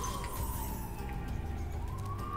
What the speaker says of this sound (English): I don't know if you can hear the sirens